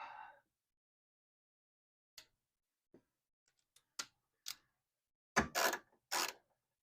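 A wrench tightens coilover bolts on a Honda Acty fire van, giving sparse metallic clicks and ratchet creaks spaced out, then a few louder scraping bursts near the end, close and otherwise quiet.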